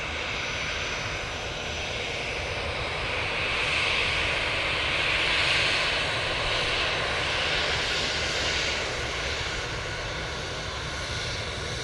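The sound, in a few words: jet aircraft taking off at Manchester Airport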